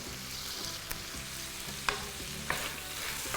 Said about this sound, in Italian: Mentre sta rosolando bene la pancetta con le verdure